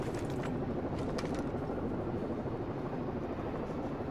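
A helicopter hovering overhead in the video game Rainbow Six Vegas 2, a steady dense rotor drone filling the whole stretch with no pauses or talking.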